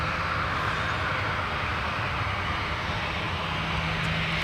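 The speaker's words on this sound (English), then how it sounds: "Delta 2267 off to Minneapolis, 737-900." A Delta Boeing 737-900 taking off from runway 1 right at San Francisco International, a continuous broad jet roar with steady loudness throughout, heard at a distance without talk.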